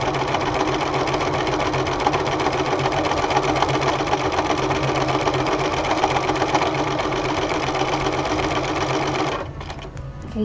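Sewing machine stitching the middle piece of a ruffled apron, a loud, fast, steady mechanical chatter running for about nine seconds before it stops abruptly.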